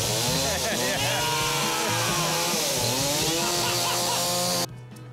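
A chainsaw runs loud and close, its engine revving in a continuous, wavering whine before cutting off abruptly near the end.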